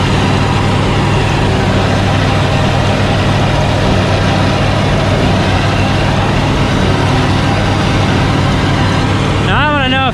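A New Holland 1890 forage chopper direct-cuts whole crop wheat, giving a loud, steady machinery drone with heavy low engine rumble throughout, and a brief rising whine near the end.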